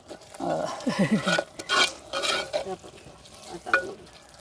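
Mushroom curry made with coconut milk is stirred in a pan, with close scraping and thick wet sloshing in uneven strokes over a faint simmer, and a voice briefly underneath.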